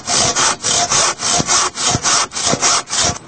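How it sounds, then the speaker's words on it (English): Hand saw cutting through wood for a bird box, a steady rhythm of about ten loud back-and-forth strokes, each rasping pull followed by a brief pause, close by with no talking. "I've only cut it by hand."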